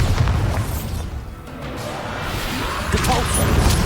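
A Bombarda blasting spell explosion in Hogwarts Legacy, a loud crashing burst with a brief dip and then continued rumbling noise.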